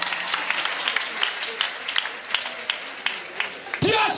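Crowd applause at a Catholic worship gathering, dense scattered clapping running steadily for about four seconds, with voices mixed in and a louder burst near the end.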